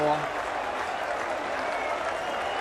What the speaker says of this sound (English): the crowd again has gone mad